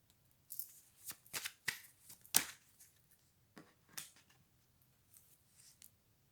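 Tarot cards being shuffled and drawn by hand, a close series of quick riffling and sliding bursts with short pauses in between, heard alone in a quiet room.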